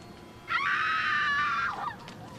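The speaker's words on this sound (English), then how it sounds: "Give me some flames, some sound of screaming." A single drawn-out, high-pitched scream sound effect set against burning flames, rising sharply, holding loud for about a second, then trailing off into a low background murmur.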